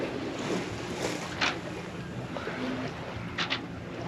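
Wind and water wash around an Océanis 393 sailboat rolling in a light breeze under sail at sea, a steady broadband rush with a few brief sloshing surges, close and moderately loud with no voices.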